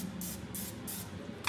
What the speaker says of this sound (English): So you're gonna spray the muffin tin.